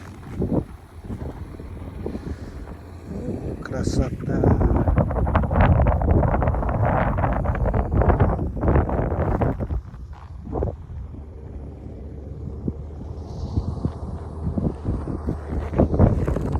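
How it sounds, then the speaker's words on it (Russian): Strong winter wind buffets the microphone in loud, rumbling gusts that rise and fall, with a brief spoken word partway through, on a snowy drive from Vladivostok to Yakutsk. "ветрено."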